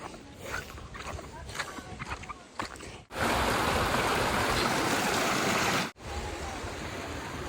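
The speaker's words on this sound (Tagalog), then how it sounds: "Lakas ang alon, ano?" Strong waves of water rush loudly and steadily at Bailen, Cavite, a dense roar that swells after a stretch of outdoor noise, drops briefly and resumes.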